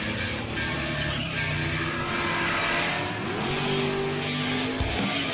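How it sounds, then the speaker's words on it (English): Drag racing cars at a Texas night meet, engines revving and accelerating in a steady, loud mid-range roar with some pitch sweeps, heard from a moderate distance with no voices. "someone told me there was drag racing on tonight"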